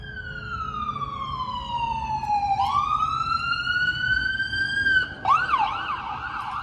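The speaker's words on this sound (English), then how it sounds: "you get a lot of ambulances because we live near the VA" An ambulance siren sweeps slowly down and back up in a long wail, then switches to a quick yelping pattern, fairly close with road noise below.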